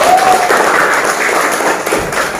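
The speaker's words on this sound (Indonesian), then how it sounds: "Oke, tepuk tangan dong." Children in a classroom clap together for a classmate, a steady dense patter of applause filling the room for a couple of seconds with a faint tone at the start.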